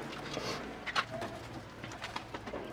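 Pigeons coo softly on a rooftop, low murmuring calls repeating over a noisy outdoor background, fairly faint and somewhat distant.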